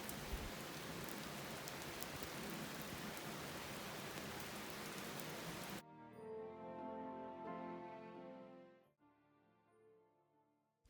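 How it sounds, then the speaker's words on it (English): Heavy rain falling during European travels, a loud dense hiss for about six seconds before cutting abruptly to a quieter passage of soft tonal music. "And then the rain came"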